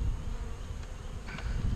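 A dense, continuous hum of many honeybees buzzing at an open hive, steady and close, with no voices.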